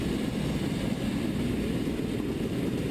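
A helicopter flying in the Second Life game, a steady low rotor and engine drone that holds evenly and loudly for the whole stretch with no break.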